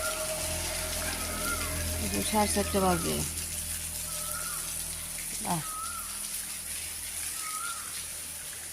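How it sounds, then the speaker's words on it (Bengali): Heavy rain pours steadily outdoors in the early morning, a constant broad hiss running throughout, with a voice speaking briefly over it and occasional birdsong. "সারা রাত বৃষ্টি হইতেছে, রাত 11টা থেকে শুরু হয়েছে"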